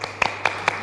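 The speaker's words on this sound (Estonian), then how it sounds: "Aitab aplausist." A few isolated claps or brief bursts of applause in an Estonian comedy sketch, four sharp spaced hits in under a second, fairly close and alone with no talk.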